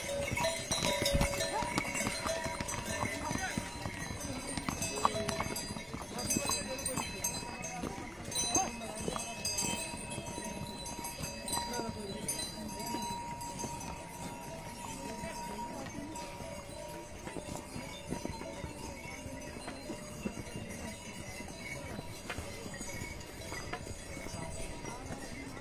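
Horses and mules walk the steep Kedarnath mountain footpath with faint scattered hoof clops and a distant bell or two over a steady outdoor background, with no speech.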